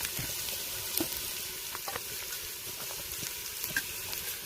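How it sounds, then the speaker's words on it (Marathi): Spices frying in oil, a steady close sizzle with soft crackles and occasional stirring clicks, no voices. "आता मित्रांनो हे सर्व मसाले आपण ना तेलामध्ये व्यवस्थित फ्राय होऊन देऊ"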